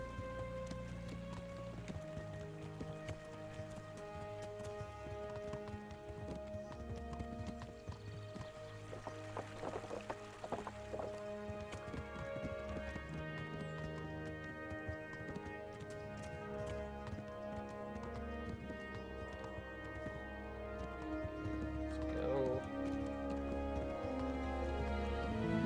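Horse hooves clip-clopping steadily in the video game Kingdom Come Deliverance, a continuous rhythmic trot under a soft rain-like wash and tonal music, moderately quiet throughout.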